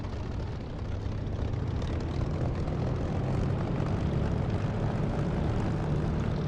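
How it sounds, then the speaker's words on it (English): A downloaded aircraft engine sound plays in a DCS or War Thunder flight simulator while the plane taxis to the runway: a steady, loud, unbroken droning roar with a low rumble. "this is an engine sound that I've downloaded. It's actually better than the DCS sound in various ways."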